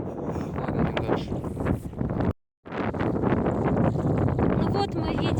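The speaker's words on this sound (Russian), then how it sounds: "Очень холодно, ветер тут ледяной прям." Icy wind buffets the microphone on a cold early-season family kayak trip down a river with ice floes, a loud continuous rumbling roar that cuts out briefly midway, with voices faintly mixed in.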